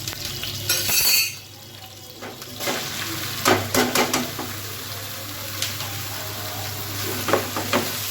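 Bottle gourd tipped into a hot pan of oil, with a loud burst of sizzling at the start, then steady frying hiss and repeated scraping strokes of a spatula stirring it, no voices.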